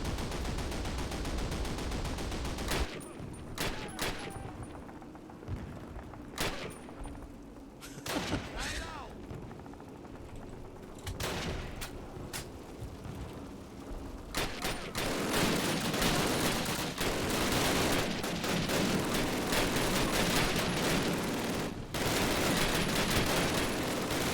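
Sustained machine gun fire rattles through a World War II style Call of Duty battle, loud and near, with dense bursts, scattered heavier booms and shouted voices mixed in, growing fiercer toward the end.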